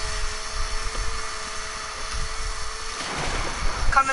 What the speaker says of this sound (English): I'm having my chainsaw out.